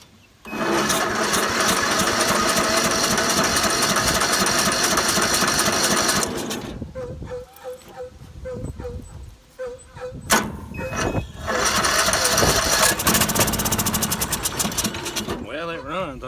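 A Troy Bilt riding mower engine starts and runs loudly and steadily close by, sputters and falters for a few seconds, then catches again and keeps running.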